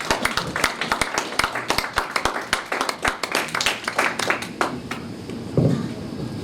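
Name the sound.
audience applause welcoming a speaker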